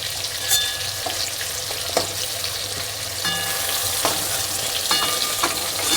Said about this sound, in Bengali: তো পটলগুলো আমার ভাজা হয়ে গেছে